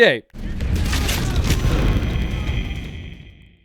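A grenade blast in Call of Duty: World at War, a loud booming explosion with a long rumbling tail and debris, preceded by a brief voice at the start.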